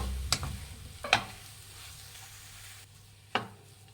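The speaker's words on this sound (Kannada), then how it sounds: "ಚೆನ್ನಾಗಿ ಮಿಕ್ಸ್ ಮಾಡಿ. ಆಲೂಗೆಡ್ಡೆ ಈರುಳ್ಳಿ ಎಲ್ಲ ಬೆರಿಬೇಕು." Potato and onion mixture stirred in a pan for aloo bonda filling, with three sharp scraping strokes spaced apart over a low steady sizzle, no talk.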